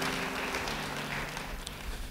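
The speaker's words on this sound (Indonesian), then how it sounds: "Beri tepuk tangan bagi Tuhan." A church congregation applauds in a dense, continuous wash of clapping lasting about two seconds.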